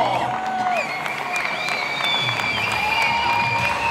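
A crowd applauds a three-time winner of the LyonSaintéLyon race, sustained clapping and cheering at moderate distance with a voice over the public address.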